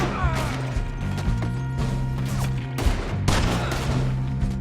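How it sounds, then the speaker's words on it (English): Gunfire in Red Dead Redemption 2 cracks out in rapid, overlapping bursts, loud and close, with sharp shots and mechanical clatter layered over a low droning music bed. "They're shooting right at us!"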